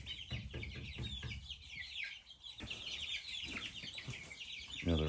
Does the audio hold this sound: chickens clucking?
yes